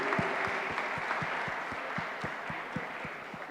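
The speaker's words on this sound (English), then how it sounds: "Now that calls for a huge round of applause" Audience applause at a hospitality institute seminar: a broad wash of clapping from a large hall crowd, held fairly steady and moderately distant, with a faint rhythmic low thumping underneath.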